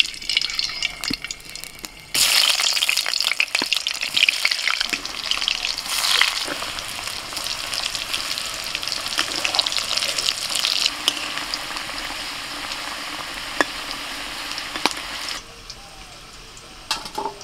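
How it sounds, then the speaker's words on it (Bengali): Potatoes frying in hot oil for mutton biryani, a loud crackling sizzle that bursts in suddenly and continues steadily with stirring scrapes, then drops to a softer simmer near the end; no talk. "আলুগুলোকে একটু হালকা করে ভেজে তুলে নিতে হবে।"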